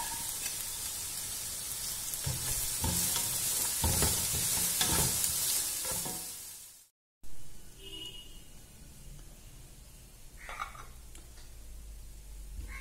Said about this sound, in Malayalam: ഇനി ഇത് നല്ല ബ്രൗൺ കളറാണ് വരെ വഴറ്റിയെടുക്കുക